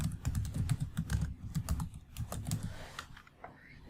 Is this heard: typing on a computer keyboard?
yes